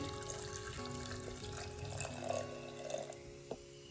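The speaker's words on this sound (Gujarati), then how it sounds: "ત્યાર પછી હવે આપણે કુકરમાં પાણી એડ કરીશું।" Water pours quietly into a pressure cooker for a few seconds, a soft trickling splash with a faint clink near the end.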